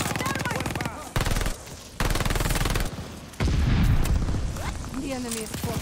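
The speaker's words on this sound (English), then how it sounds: "We're gonna just hip fire this thing." Rapid automatic fire from a Nikita AVT rifle in Call of Duty Vanguard multiplayer, loud sustained bursts with short pauses between them, mixed with game sounds and someone talking over the shooting.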